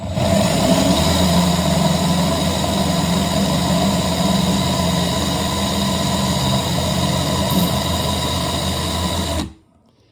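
A drill spins a wooden piece as a makeshift lathe against a fine tooth reciprocating saw blade, giving a steady, loud whirring hum that runs unbroken for about nine seconds before stopping abruptly.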